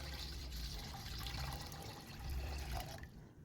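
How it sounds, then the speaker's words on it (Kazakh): Two litres of water poured into a large pot while making an immunity-boosting drink, a steady rushing trickle of liquid filling the vessel up close, easing off near the end. "Енді үлкендеу ыдысымызға 2 литр су құямыз."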